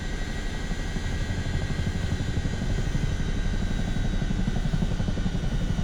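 Airbus H125 helicopter in Microsoft Flight Simulator 2024, a steady, loud turbine whine and rotor drone running evenly throughout with no talk.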